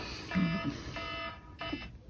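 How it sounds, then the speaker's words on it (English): Short electronic alarm beeps sound in a few bursts, fairly close, over a low murmur of background noise. "that was the alarm, and it goes right in my ears."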